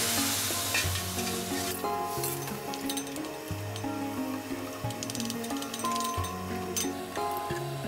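Meat cooks with broth in a pan for Turkish tantuni, giving a steady sizzle and bubbling with occasional clinks, under continuous background music.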